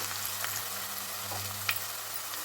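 Turmeric being stirred into soya chunk and tomato curry frying in a pan, with a steady broadband sizzle throughout and a few faint scraping stirs, one brief sharper clink near the end.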